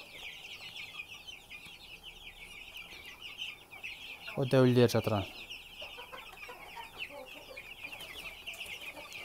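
Broiler chicks in a poultry shed keep up a constant chorus of high cheeping, broken midway by a loud, close burst of clucking; someone speaks briefly over the flock.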